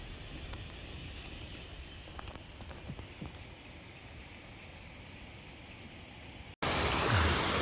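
Steady broadband rush of the Huai Phak Nam waterfall at Ban Pha Chan, Ubon, a continuous even roar with faint clicks, ending in a sudden louder burst of noise.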